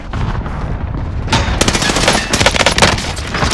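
Rapid automatic gunfire in Modern Warfare, loud and close, with bursts of shots cracking over a noisy background that grow denser after the first second.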